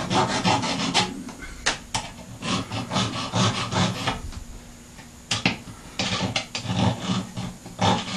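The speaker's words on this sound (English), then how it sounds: "I'm going to start out here by taking some of the burr off from" Burr being rasped or filed off the top of a workpiece by hand, close and fairly loud, in uneven scraping strokes with short pauses and a quieter stretch midway.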